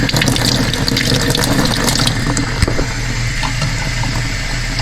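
Running water gushes steadily and loudly from a tap, rinsing debris out of the cap of a Sunbelt water changer, with a constant close splashing flow and no voices.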